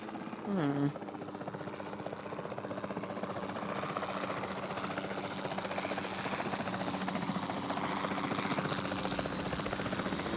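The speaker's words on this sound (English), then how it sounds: "the sensible thing is to take a capture team helicopter" A capture team helicopter in Jurassic World Evolution 2 gives off a steady rotor and engine drone that holds throughout, with a brief rising game sound at the start and a voice speaking over it.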